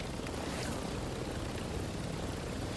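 A helicopter in Call of Duty: Modern Warfare II drones with a dense, continuous rotor and engine wash, loud and steady throughout, with no voices.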